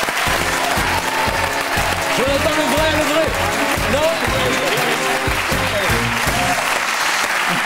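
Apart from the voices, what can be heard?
audience applause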